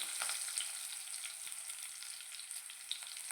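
Curry leaves and cumin seeds frying in hot oil for a fenugreek-leaf and potato fry give a close, steady crackling sizzle with scattered sharp pops, and no voices.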